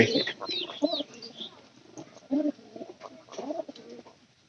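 Pigeons coo in short low bursts, repeated several times at close range, with some faint chirps and light background noise.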